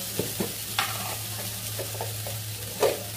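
Banana flower curry (mochar ghonto) is stirred in a pan over a quiet, steady sizzle, with a few soft scrapes and clinks from the spoon spaced across the short stretch.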